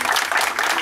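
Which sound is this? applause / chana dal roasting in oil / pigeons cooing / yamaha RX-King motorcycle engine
applause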